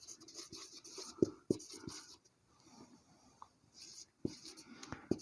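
A pen scratching on paper while an accounting journal entry is written by hand, in soft, close, irregular strokes separated by short pauses in a quiet room.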